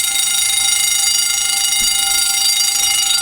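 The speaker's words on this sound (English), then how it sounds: "I don't know why these alarms are going off when I'm flushing the fire hydrants" Fire alarms blare in a loud, steady, high-pitched electronic tone that holds without pause while fire hydrants are being flushed, with no talking over it.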